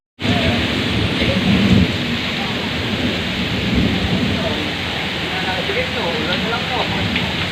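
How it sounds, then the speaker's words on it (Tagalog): Heavy rain pouring during a typhoon, a loud continuous roar with low rumbling underneath, steady from start to finish. "Sobrang lakas ng ulan."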